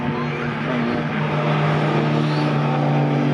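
Race cars at a Silverstone enduro race roar past in a continuous loud engine drone with steady tones, a commentator talking over the noise.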